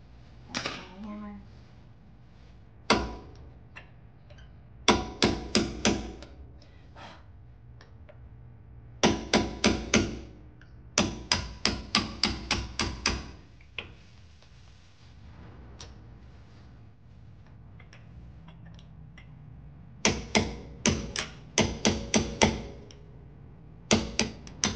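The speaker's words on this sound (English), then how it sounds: "I'm just using a punch and a hammer." Hammer repeatedly striking a steel punch to drive the pins out of a front brake caliper on a 2011-2018 Mercedes CLS550, sharp metallic taps in quick bursts of three to eight blows with pauses between, close and loud.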